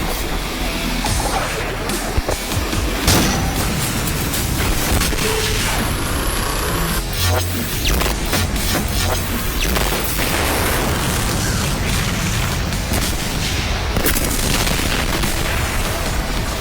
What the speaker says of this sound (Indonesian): Setelah ditembak plasma kanon, tangki yang menampung gas khusus meledak sekaligus